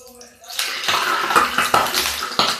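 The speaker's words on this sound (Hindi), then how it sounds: "ये इसमें कटोरी में पानी था इसलिए ये इतना उछल रहा है।" Hot oil poured into a bowl that still held water spatters and crackles in sharp bursts, close and fairly loud, with clattering of kitchen utensils.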